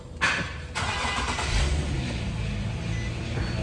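A 2017 Infiniti QX70 engine cold-starts, cranking and catching, then runs at a rough, rumbling idle with a faint whirring from a noisy idler pulley underneath, close and steady.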